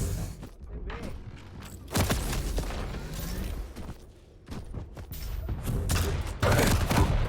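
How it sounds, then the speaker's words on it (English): Rocket launcher fire in a Quake competitive match, a series of loud booming blasts and thuds mixed with rapid weapon fire and mechanical game sounds, with a caster talking over it. "Nice rockets from Yup."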